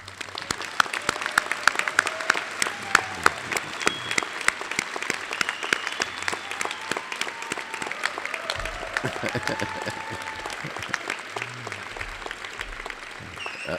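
Commencement audience at a college of medicine ceremony gives sustained applause for graduates' families, a dense even patter of many hands lasting over ten seconds, with faint voices mixed in.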